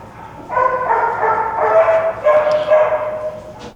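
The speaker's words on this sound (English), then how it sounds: "We've got a lot of noisy dogs" Several noisy dogs bark and yip close by in a steady, overlapping run, with whimpering mixed in, fairly loud and without talk.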